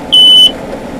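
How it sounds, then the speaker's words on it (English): An alarm inside a truck camper gives a single piercing electronic beep lasting about a third of a second, loud and close, over a low background rumble. "When the alarm goes off, you press the button."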